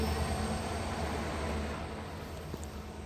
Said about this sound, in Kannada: ನಮ್ಮ ಟ್ರೈನ್ ಬರ್ತಿದೆ ನೋಡಿ, 17040 Vasco D gamma to ಸಿಕಿಂದ್ರಾಬಾದ್ by weekly express